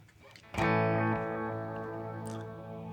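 A single electric guitar chord rings out through a distorted Source Audio Encounter effects pedal with expression pedal, thick and sustained, slowly decaying with a faint pick scrape near the end.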